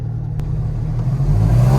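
A Porsche GT4 RS drives past at a modest pace, its engine a loud, close, steady low rumble that builds slightly toward the end, with no talk over it.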